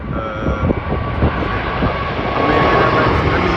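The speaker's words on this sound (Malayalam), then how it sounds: "ഇപ്പം ടേക്ക് ഓഫ് ചെയ്യണ ഈ ഫ്ലൈറ്റ് അമേരിക്കൻ എയർലൈൻസിൻ്റെ ഫ്ലൈറ്റാണ്" An American Airlines jet bound for Miami takes off near Heathrow, its engines a loud, sustained broadband roar that swells slightly toward the end, with a voice speaking over it.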